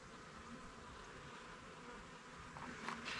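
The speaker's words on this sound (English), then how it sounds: "Got some bees." Bees hum at a hive being inspected for queen rearing, a faint, continuous close buzz with a slightly louder pass near the end.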